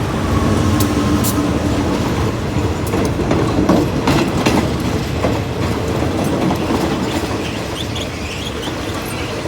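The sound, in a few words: GEA 4538 diesel locomotive hauling express parcel freight train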